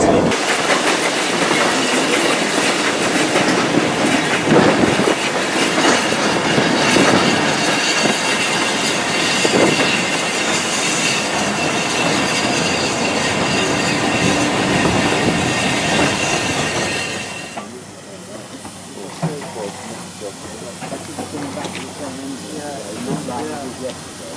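A heritage railway train on the Foxfield Railway rumbles close by with hissing and rhythmic clatter, loud for most of the clip before fading to quieter ambience near the end.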